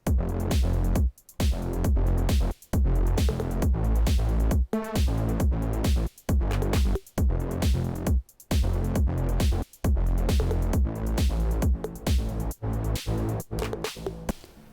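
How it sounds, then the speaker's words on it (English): A loud, dense electronic beat with heavy bass and punchy drums, built in Serum, plays continuously with regular rhythmic hits and brief dropouts, no voices over it. "all the drums with the bass sound like this"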